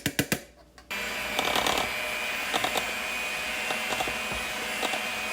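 Cupcake batter is mixed with a steady, whirring motor drone after a few sharp knocks at the start, close and fairly loud, with small clatters over the hum.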